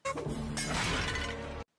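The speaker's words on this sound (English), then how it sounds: "starts smashing stuff in his office" A loud, sustained crash of objects being smashed in an office in an animated show, with breaking and shattering running together for about a second and a half before cutting abruptly to silence.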